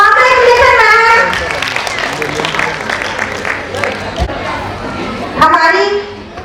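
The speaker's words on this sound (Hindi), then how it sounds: "जोरदार तालियों से इनका स्वागत करें।" An audience at a school annual function claps to welcome a teacher receiving a lifetime achievement award, a dense burst of applause held between a voice speaking before and after.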